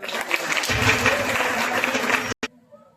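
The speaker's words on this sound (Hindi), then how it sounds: "जोरदार ताली बजाकर" A congregation at a Christian ashram prayer meeting claps loudly and densely for about two seconds, then the applause cuts off abruptly.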